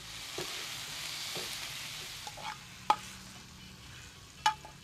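Tabtaba fish sautéing in a pan, a soft steady sizzle with light stirring and a few sharp clinks of a utensil against the pan.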